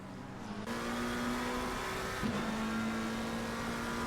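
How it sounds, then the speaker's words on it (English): A McLaren race car in a sim racing esports qualifier holds a steady, loud engine drone from inside the cockpit, with a brief shift in pitch partway through and no talk. "Love the sound of the McLaren, though. It's a pretty sounding car."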